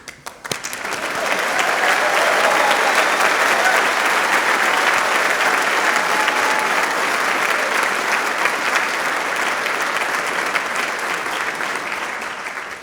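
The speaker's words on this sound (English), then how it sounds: "So please, show your enthusiasm and cheer for your members of Dalhousie's newest alumni." A convocation audience at Dalhousie University's Faculty of Medicine spring ceremony bursts into loud, sustained applause and cheering that swells within the first second and holds steady, dense clapping filling the hall throughout.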